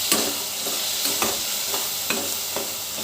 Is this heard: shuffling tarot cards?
no